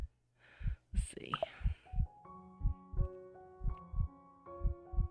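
A steady thumping heartbeat effect from a dating sim game, low double-beat pulses repeating evenly under soft whispering and a chiming melody that enters partway.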